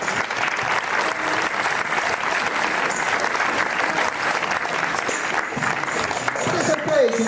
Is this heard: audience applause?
yes